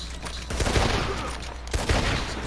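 A volley of gunfire in the video game Red Dead Redemption 2 sounds as several sharp, overlapping shots in quick succession, loud and close, mixed with in-game ambience.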